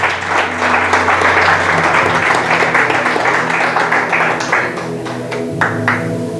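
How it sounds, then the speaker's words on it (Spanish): A church congregation claps loudly and steadily during a Spanish-language sermon, with sustained musical tones beneath and scattered sharper claps standing out as it tapers. "le damos un fuerte aplauso a Cristo"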